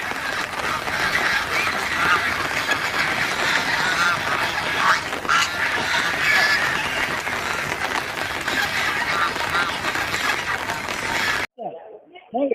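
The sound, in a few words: geese (raj haah) honking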